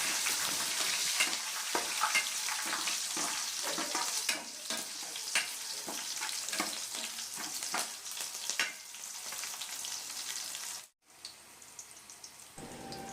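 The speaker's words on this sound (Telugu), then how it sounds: "వీటన్నిటిని బాగా దోరగా వేయించుకోవాలి" Ingredients for a bottle gourd chutney fry and get stirred in a hot pan, a continuous close sizzle with scraping strokes of a spoon, briefly cut off near the end.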